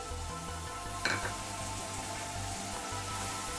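Chopped tomatoes and onions with salt sizzle steadily in a pan for cabbage kootu, a constant close frying hiss with one brief scrape of a utensil partway through.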